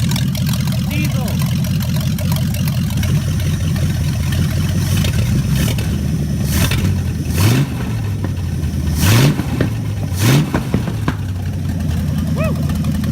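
V8-powered trike engine running steadily up close, with a low throbbing idle broken by several sharp revs that rise and fall between about seven and eleven seconds; talk is mixed in.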